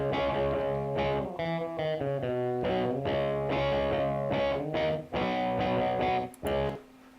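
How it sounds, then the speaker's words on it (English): A solo guitar track plays dry with no reverb, a clean run of sustained, chiming chords and notes that stops abruptly, with no voices. "I'm going to solo, which means play only, this guitar track."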